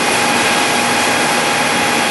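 A pre-owned American lathe, 21.5 by 102 inch, running its feeds gives a steady, loud mechanical whir with a constant hum and no pauses or changes in pitch.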